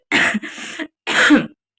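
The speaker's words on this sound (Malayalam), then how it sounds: "ചുമയുണ്ട്, ക്ഷമിക്കണേ കൂട്ടുകാരെ" A woman coughs in short, harsh bursts: two quick coughs run together, a brief pause, then one more, close to the microphone with silence around them.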